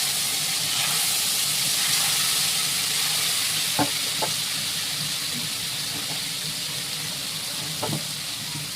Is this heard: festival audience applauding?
no